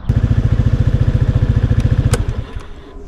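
A 2019 Honda Vision NSC110 110cc scooter engine runs loud and close with a steady pulsing thrum, then fades away as the ride gets under way.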